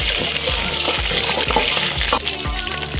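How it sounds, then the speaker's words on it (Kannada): Curry leaves and green chillies crackle and sizzle in hot oil in a pan, a steady bright frying hiss with repeated soft stirring knocks throughout, close and fairly loud. "3 ಸ್ಪೂನ್ ಆಯಿಲ್ ಹಾಕೊಳ್ಳಿ, 4 ಕರಿಬೇವಿನ ಸೊಪ್ಪು, 4 ಮೆಣಸಿನ್ಕಾಯಿ ಆ್ಯಡ್ ಮಾಡ್ಕೊಳ್ಳಿ"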